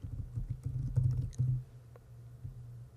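Keys on a computer keyboard are typed in a quick, uneven burst of close clicks that thins out to a few last taps.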